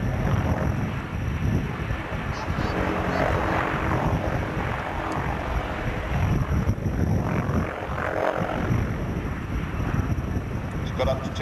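A large helicopter performs aerobatic manoeuvres at the Fairford airshow, its rotor and engine roar loud and continuous with a throbbing blade chop, and a voice talks over it.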